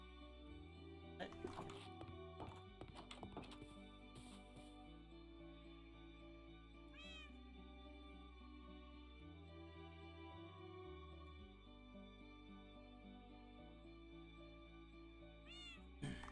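A pet cat meows twice, once near the middle and again at the end, with short rising cries over a steady room hum while a person speaks nearby.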